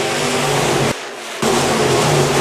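Race cars roar loudly and continuously at Park Jefferson Speedway as B-Modified cars restart green flag racing, the engine noise dipping briefly for about half a second before surging back just as loud.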